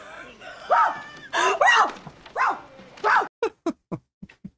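Dog-like barking and whimpering from a 1988 comedy film: a run of drawn-out, wavering yelps followed by a quick series of short, sharp barks, fairly close and loud.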